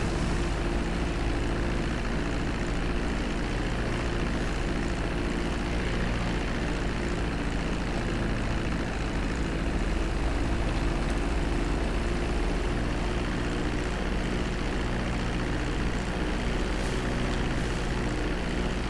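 Propeller engines of an ATR 72 airliner in Vietnam Airlines livery in GTA 5 on an overcast day, a constant, even drone with a low hum holding steady for the full stretch, with no voices.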